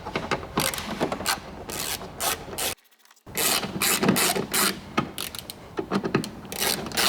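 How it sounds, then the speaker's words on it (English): A ratcheting tool works Torx bolts loose from the hatch handle trim of a Mercedes, loud, close, rapid clicking in quick bursts, with a short silent pause midway. "Once I've got the Torx bolts removed from the handle, it's gonna become a lot more loose."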